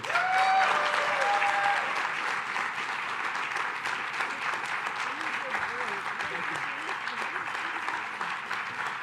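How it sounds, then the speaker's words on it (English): Sustained applause from an audience at a press announcement with New York's governor and mayor about a floating pool, steady clapping filling the whole stretch with faint voices beneath. "Let's give another huge round of applause to Lucas, who did an amazing job."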